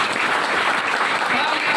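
An audience claps during a political speech about total revolution, a dense burst of applause filling the hall, loud and continuous for a brief moment with some voices mixed in.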